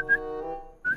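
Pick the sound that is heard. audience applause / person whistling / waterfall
person whistling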